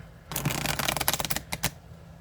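A tarot card deck shuffled by hand gives a close run of crisp riffling and flicking card noise, with dense rapid bursts in the middle and two short final slaps.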